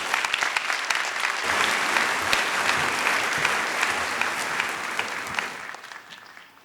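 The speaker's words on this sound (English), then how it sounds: "Please join me in a warm round of applause for one of our own, Teresa Renu Davis." Commencement audience at a spring college graduation ceremony breaks into sustained, dense applause that holds steady, then thins and fades toward the end.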